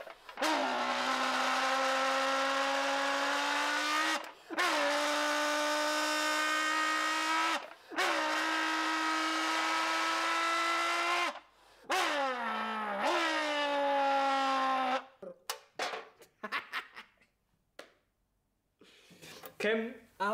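A man mimics a car engine with his voice, loud sustained revving drones in three long bursts, then a rising rev and a choppy stuttering tail of shorter vocal bursts and pauses.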